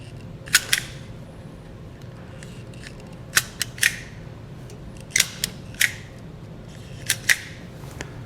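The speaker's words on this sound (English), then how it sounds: "we're gonna cut both of these wires. After we cut them, we'll strip back each end" Sharp paired snips of wire cutters and strippers working on wires for a Roadmaster Hy-Power diode wiring kit on a 2018 GMC, four crisp double clicks spaced through a quiet room, close and fairly loud.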